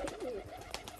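Soft, low cooing from high-flyer pigeons, a rolling throaty call repeated in a short burst, close by and fairly quiet.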